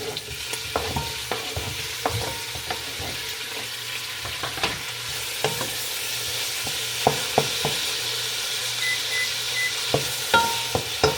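Tomatoes and fish sauce stirred as they fry in a pan, a steady background sizzle broken by intermittent clinks and scrapes of a utensil against the pan, close up, with no talking.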